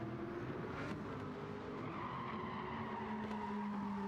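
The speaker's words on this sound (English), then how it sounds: "Lots of tyre squeal, tyre noise there from the Hurricane." A race car's tyres squeal in Gran Turismo 7 during a Gr.4 league race at Brands Hatch short circuit, a sustained tonal screech over steady engine and road noise, faint overall with no talk.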